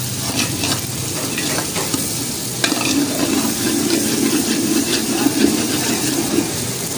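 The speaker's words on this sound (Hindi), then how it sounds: "मज़ीद 2 से 3 मिनट इसको इस तरह से बिल्कुल भूनना है" Aloo palak of potato and spinach stir-fried in a pan in a restaurant kitchen, a loud continuous sizzle with repeated scraping stirs and a low rumbling undertone, no talking.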